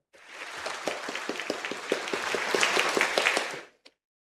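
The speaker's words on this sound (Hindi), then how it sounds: "तीनों पार्टिसिपेंट्स के लिए शानदार तालियां हो जाएं" Studio audience at a quiz competition applauding the three participants, a moderate round of clapping that swells and then cuts off abruptly near the end.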